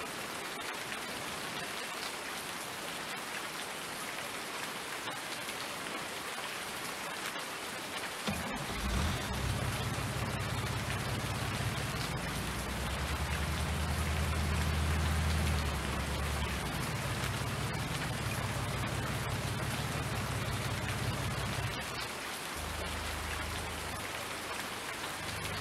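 Steady rain falls in Farming Simulator 19, a broad continuous hiss that holds throughout, joined midway by a low droning hum.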